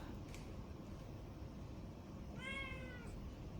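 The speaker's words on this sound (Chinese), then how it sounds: "哎呦，这小猫又跑上来了，等我把它抓上去" A small cat gives a single short meow partway through, faint against a steady low background hum in an indoor room.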